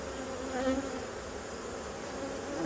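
Honeybees crowd a packed hive that is trying to swarm, making a dense, steady buzzing drone that stays even and close throughout with no voices.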